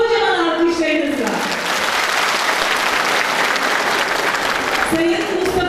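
An audience applauds Fahrettin Beşli, general secretary of a Yörük Türkmen union, at a Yörük Türkmen festival in Gedikli village, Isparta, a loud sustained round of clapping, with a voice and music heard at the start and end.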